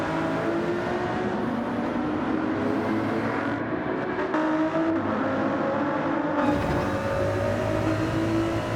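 Race car engines roar in a racing video game, several motors droning and shifting pitch as gears change, with a continuous loud rush and no voices.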